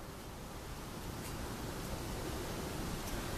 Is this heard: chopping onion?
no